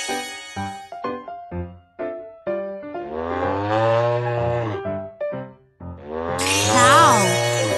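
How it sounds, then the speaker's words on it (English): A low, drawn-out moo rises and holds for a few seconds, then a second long moo follows near the end, with short musical notes playing in between. "Cow."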